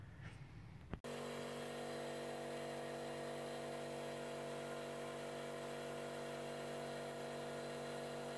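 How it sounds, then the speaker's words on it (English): An air compressor blows crud out of the intake manifold on a Pajero, a steady, even, humming mechanical drone that starts abruptly and runs on, fairly quiet. "I'm just going to blow it out with the air compressor"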